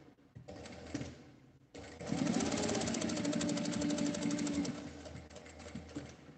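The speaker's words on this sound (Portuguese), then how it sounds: "Vou passar uma costura, um pesponto aqui nessa parte de cima." Sewing machine topstitching the top edge of a fabric card and coin purse: a brief burst of stitching, a pause, then a long steady rapid mechanical whir of stitches running close and loud before slowing to a stop.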